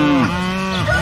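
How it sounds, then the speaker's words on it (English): A heifer cow moos once, a loud, close, drawn-out bellow that bends in pitch, heard alone. "You got a whole heifer cow and a and a muumu. moo."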